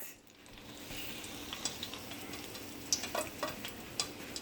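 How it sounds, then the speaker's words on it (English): Scotch bonnet pepper dropped into hot oil heating for frying fish, giving a steady, close, low-level sizzle with a few soft ticks and pops and no talking. "Here I have some oil that is heating up for my fish"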